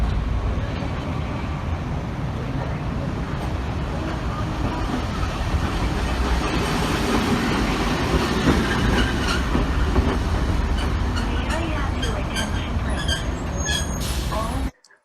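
An old tram rumbles in steadily along the street with clattering wheels and metallic squeals, loud and close, then cuts off abruptly at the end.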